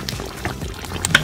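Water pours into a pot of chicken and dumplings in a brief, close splashing gurgle lasting about a second, with no voices.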